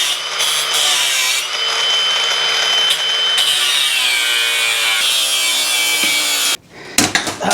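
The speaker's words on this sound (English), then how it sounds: "can be solved with an angle grinder" An angle grinder cuts through rusted parts on a 1953 GMC truck body, a loud continuous abrasive whine with harsh grinding noise that runs steadily before dropping out and briefly resuming near the end.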